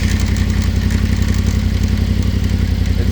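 Yamaha Tenere 700 motorcycle idling with a Barnett clutch pulled in, a steady close engine drone with rapid regular thumping pulses and light mechanical clatter, continuous and loud with no talking.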